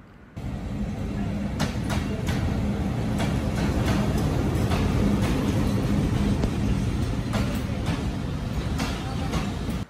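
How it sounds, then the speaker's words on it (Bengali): A continuous, loud rumble of the Sundarban Express passenger train with rhythmic clacking and intermittent metallic clicks, heard close by at a busy station in Chuadanga, Bangladesh. "ট্রেন ছাড়ার আগেই স্টেশনে এসে যাত্রী ও ট্রেনের আনাগুনা দেখতে ভালোই লাগে"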